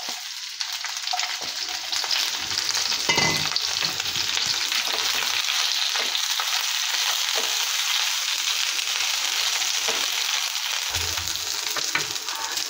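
Chopped onion sizzles in hot oil over a high flame, a loud, continuous frying hiss with occasional stirring close up.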